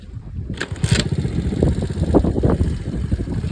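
A small Trail Master TM23 trail motorcycle engine idles in neutral after a kickstart, a steady low rumble with irregular chugging pulses running throughout, fairly close and moderately loud, with no speech over it.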